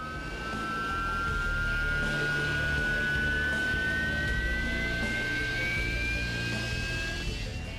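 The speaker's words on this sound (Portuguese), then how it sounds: "Aqui na Escócia, eles estão em treinamento para pouso e decolagem vertical de qualquer lugar, em qualquer condição." A Harrier jump jet training for vertical takeoff and landing in Scotland, a loud sustained jet roar with a high whine rising steadily in pitch.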